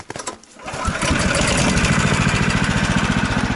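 A car engine on a drive to a fishing spot settles from a brief low rumble into a steady, loud, rhythmic hum, close by and continuous with no talk.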